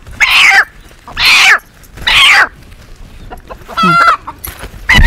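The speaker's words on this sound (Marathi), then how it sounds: "तर ही आता आपली देशी कोंबडी आहे" A native hen clucks in several loud, close bursts, each about half a second long with short pauses between, ending in a quick run of choppy calls.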